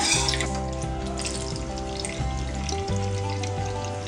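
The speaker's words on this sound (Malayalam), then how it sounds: "ഇനി നമുക്ക് ഇതിനകത്തോട്ട് ശർക്കര പാനി ഒഴിക്കാം." Strained melted jaggery syrup poured into cooked payasam in a pot, a close, steady liquid pouring and splashing over a low hum that lasts a few seconds.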